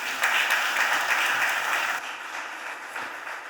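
Applause in the Philadelphia City Council chamber for a group of young men, a dense round of clapping that fades after about two seconds into scattered claps and room noise.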